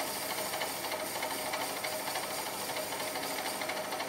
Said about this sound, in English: I'm just plunge cutting with that half inch slot drill and enlarging that hole to 1/2 inch